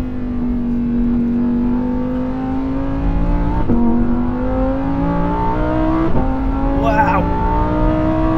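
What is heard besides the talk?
Lamborghini Huracan Tecnica V10 engine revving on track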